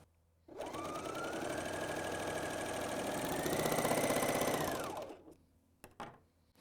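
BERNINA L 660 overlock machine sewing a stretchy seam: one burst of fast, whirring stitching of about four and a half seconds rises slightly in pitch and then stops, followed by a few faint clicks.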